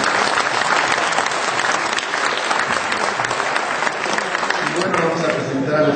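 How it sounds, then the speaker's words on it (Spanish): Loud, sustained audience applause fills the hall at a political gathering, a dense steady wash of many hands clapping throughout, with a voice faintly under it near the end. "Vamos a darle un aplauso."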